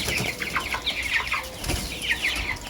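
Broiler chicks cluck and cheep in a nearby flock, with soft overlapping chirps spread steadily through the moment and no voices.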